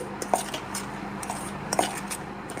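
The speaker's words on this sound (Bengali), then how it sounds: "সব কিছু একসাথে খুব ভালো করে শুকনো অবস্থায় মিশিয়ে নিচ্ছি" Dry pakora batter ingredients are mixed in a bowl, producing soft scraping and stirring with a few sharp utensil clinks against the bowl, close and quiet with no talk.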